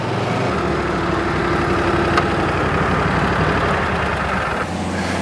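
The engine of a turf printing machine idling on a grass field, a steady close rumbling drone that holds evenly, with a slight shift in tone near the end and no talk.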